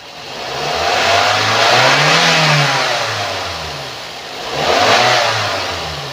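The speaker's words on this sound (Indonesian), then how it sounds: "sekarang kita coba naikkan RPM-nya" A 2017 Daihatsu Granmax 1.3 pickup engine revs up, eases back, then revs again, a loud close-up rumble swelling twice with no voices.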